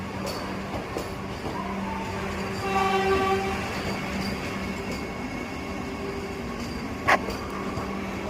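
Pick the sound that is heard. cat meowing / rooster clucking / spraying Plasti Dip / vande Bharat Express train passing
vande Bharat Express train passing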